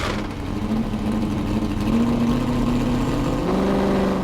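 A 1983 March 83G Chevrolet race car, the Spirit of Miami, drones loudly and close, its engine note holding steady and then stepping up in pitch as it revs, with no voices over it.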